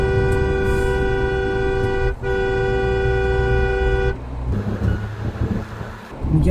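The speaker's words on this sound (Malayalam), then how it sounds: "ഞാൻ ഹോൺ അടിച്ചത്" A car horn blares in one long, steady, loud tone for about four seconds, broken by a brief gap, then cuts off and leaves road and wind noise from a moving vehicle.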